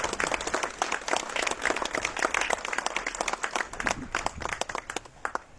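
An audience at a San Severo memorial ceremony for the 1989 railway station tragedy claps in dense, sustained applause that thins toward the end, with no talking.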